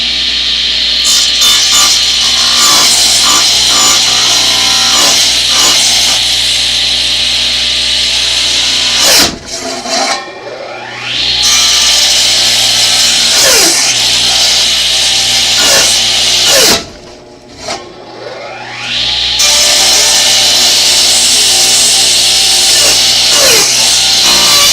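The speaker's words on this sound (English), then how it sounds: "Really hear my saw cut and grab and strain under that extra millimeter of aluminum." A hand saw grinds steadily through an aluminum workpiece about a millimeter oversized, a continuous harsh rasping with repeated stroke rhythm, loud and close, briefly pausing twice before resuming.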